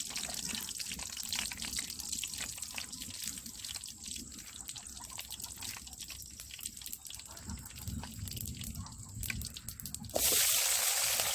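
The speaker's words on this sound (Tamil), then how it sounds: "கடுகு நல்லா பொறிஞ்சிருச்சு" Mustard seeds spluttering in hot sesame oil in a pan, a dense, continuous crackle of fine pops close by, ending in a louder hiss as more ingredients hit the oil.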